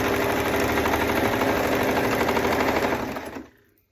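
A sewing machine stitches down the side of an oversized hot pad in a steady, rapid, loud mechanical whir close by, running continuously before stopping abruptly near the end.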